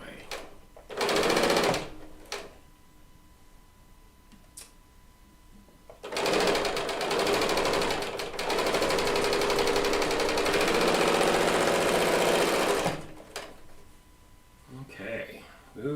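A serger sewing machine stitching quilt fabric, running in two long, fast, loud buzzing bursts with brief starts between them, with a person talking in the quieter gaps.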